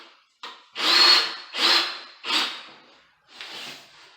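A screw is driven into a toilet flange being raised above a tile floor, heard as four or five close, loud bursts of grinding and whirring, each lasting about half a second with brief pauses between.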